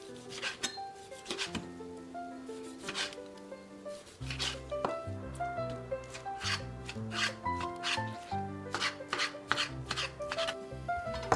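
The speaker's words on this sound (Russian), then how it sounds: "Нарезаем курицу." A knife chops raw chicken on a board in quick, irregular knocks, with light clinks and quiet music playing behind.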